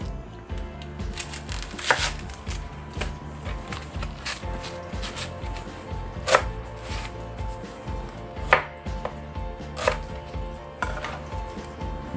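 Half an onion being chopped with a knife on a board makes a series of distinct, fairly close chops at an uneven rhythm, with a few sharper hits standing out against quiet kitchen background.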